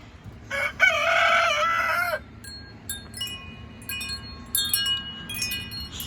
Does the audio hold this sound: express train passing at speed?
no